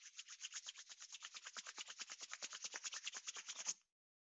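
Palms rubbing briskly together in a quiet room during a yoga class, a close, soft rhythmic swishing of about thirty quick even strokes that stops abruptly.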